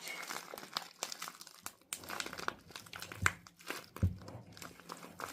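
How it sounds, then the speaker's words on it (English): Crunchy crinkling and crackling as a Taba squishy with a cinnamon-roll heart design is squeezed and unwrapped, close and busy throughout, with sharp crunchy bursts near the end. "Crunch."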